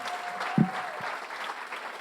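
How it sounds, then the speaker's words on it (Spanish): A church congregation applauds to welcome a visiting speaker, a steady, moderately quiet patter of many hands clapping with a single louder knock near the start. "Vamos a recibir a Thomas con un aplauso."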